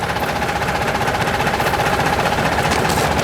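Tractor engine heard from a tractor-drawn trailer carrying riders to a Turkish village, a loud, dense mechanical rumble with steady rapid knocking vibration that holds unbroken throughout.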